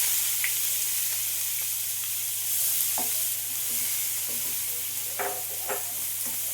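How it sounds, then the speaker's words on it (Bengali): Sliced onion from one large onion sizzles steadily in hot oil for a paneer masala, a continuous bright frying hiss with a few soft scrapes and clicks of stirring, no voices. "এবার পেঁয়াজটা আমি দিয়ে দিচ্ছি তেলের মধ্যে।"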